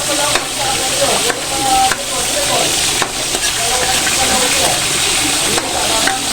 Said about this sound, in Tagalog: tumatalsik po yung mantika kahit pinipirito